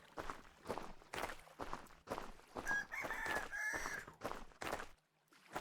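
A chicken in the survival game Vintage Story clucks and crows midway through, heard over a steady run of footsteps crunching along at an even walking pace.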